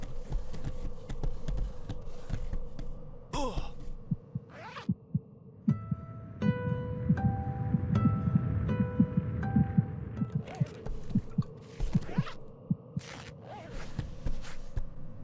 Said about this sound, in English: At this point, I'm just so tired of hearing the heartbeat.